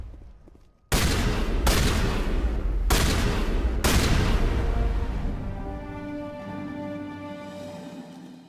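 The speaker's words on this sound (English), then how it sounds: "Live shotgun shots" Four loud shotgun blasts from Mass Effect fire about a second apart, each a sharp booming crack, followed by a long ringing, humming tail as the weapon cools down.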